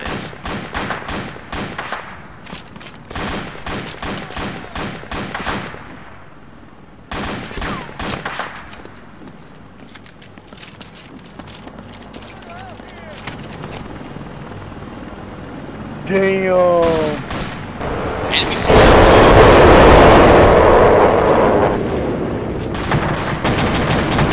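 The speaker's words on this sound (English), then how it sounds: "Taking fire." Gunfire from the military shooter ARMA 2 rattles in repeated bursts and volleys, some close and sharp, others more distant, building to a dense, heavy barrage near the end, with voices talking over parts of it.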